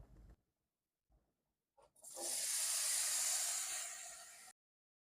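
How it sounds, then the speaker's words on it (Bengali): Brief handling noises, then a loud burst of hissing sizzle as cut, washed potatoes drop into hot oil in a wok, holding steady for a couple of seconds before cutting off. "এই তেলের মধ্যে আমি কেটে ধুয়ে রাখা আলুগুলো ভেজে নেব"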